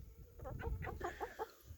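Chickens clucking in a rapid run of short, pitched calls, fairly close, with low rumbling background noise.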